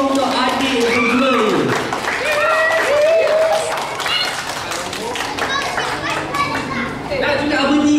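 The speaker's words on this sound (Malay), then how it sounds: "kita berikan tepukan yang gemuruh untuk adik yang kedua" Children applauding a young singer at a kids' art workshop sing-along, a lively clatter of claps mixed with excited children's voices and an adult speaking over them.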